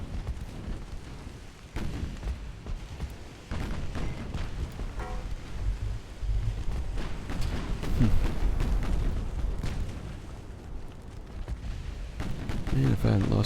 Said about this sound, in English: small caliber fire here at the moment, not large caliber.